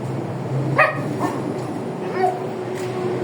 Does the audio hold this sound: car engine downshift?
no